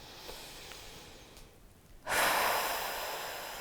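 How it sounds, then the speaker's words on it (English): A single deep breath in a calm guided tapping session: a quiet inhale follows a near-silent pause, then a loud, close, sustained exhale that slowly fades. "Take a deep breath with me."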